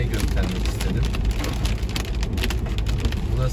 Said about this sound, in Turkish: Yağmur başladı. Size bir de yağmurda ağaçların arasında araba kullanmayı göstermek istedim.